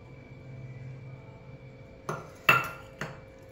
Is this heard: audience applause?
no